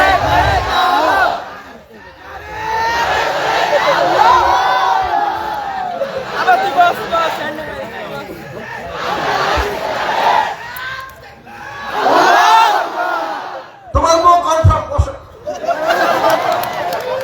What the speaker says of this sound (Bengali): যে কোনো একজন জোরে সরে দাও তাকবীর।